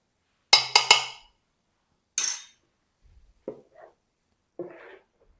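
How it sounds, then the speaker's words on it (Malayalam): Ghee-fried coconut pieces being stirred into unniyappam batter give a few sharp clinks of a spoon against a bowl, then softer scattered scrapes and taps, close up with quiet gaps between. "ഞാൻ ഇളക്കി യോജിപ്പിക്കട്ടെ."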